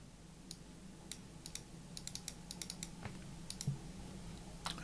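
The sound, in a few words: mouse clicking while saving a file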